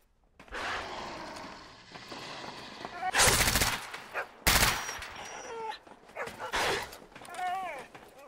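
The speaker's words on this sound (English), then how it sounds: "Dogs again." Dogs bark and yelp in sharp bursts amid loud cracks of gunfire in the video game Stalker GAMMA, with shots and barks overlapping in close, irregular clusters.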